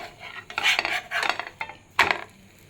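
Frying paratha flipped over with a metal spatula in a pan, giving a few close, brisk scraping and clattering strokes in short bursts, with no talking.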